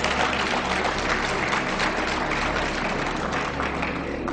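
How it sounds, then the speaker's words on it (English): Sustained applause fills the room, a dense wash of clapping from a large audience, steady and loud throughout. "Yes, you can clap for that."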